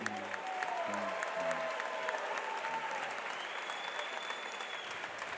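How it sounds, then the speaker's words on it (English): Sustained applause from an arena crowd at the Cage Titans XL MMA title fight, saluting two fighters after five full rounds, a dense, steady clapping wash that slowly thins, with a faint voice over it. "Let's get a big round of applause for these two."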